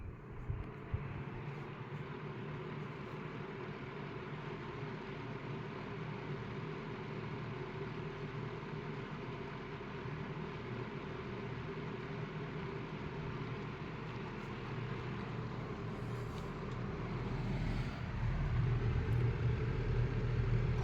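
A 1998 Lakewood model 200/I 20-inch portable fan with a shaded pole motor runs on low speed, giving a steady, continuous whirring hum and low rumble throughout that swells slightly louder near the end, with no talking.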